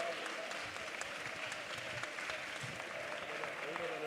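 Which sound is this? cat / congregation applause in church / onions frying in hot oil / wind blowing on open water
congregation applause in church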